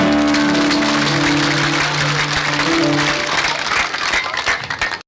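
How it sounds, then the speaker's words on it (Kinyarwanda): An audience at a church gathering claps in a dense, sustained round of applause that holds steady for several seconds, with faint musical tones underneath, then fades out. "tuyikomere amashyi"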